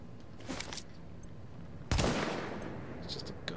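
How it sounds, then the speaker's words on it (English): Gunfire from an automated gun turret in The Division's Dark Zone: a short burst near the start, then a loud, sharp blast near the middle that decays slowly, with further scattered shots toward the end. "It's just a gun turret"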